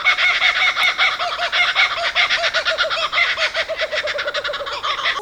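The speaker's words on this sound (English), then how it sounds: "That's a Kookaburra, the bird with the happy laugh." A kookaburra gives its laughing call, a rapid rhythmic cackling series that rises and continues for several seconds, loud and close with no talk.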